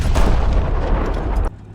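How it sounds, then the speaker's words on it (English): The M3 Lee's sponson-mounted 75mm gun fires in War Thunder: one loud, deep boom with a long rumbling tail that cuts off abruptly. "you have a 75mm gun in a sponson, capable of firing high explosive"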